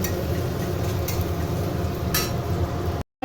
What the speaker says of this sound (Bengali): পেঁয়াজটাও ভাজা ভাজা হয়ে গেছে।